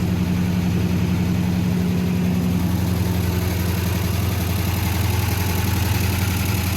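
Original engine of a 1971 International truck, restored after sitting for 30 years, idling while warming up: a loud, continuous low rumble with an even rhythmic throb, close by and with no talking.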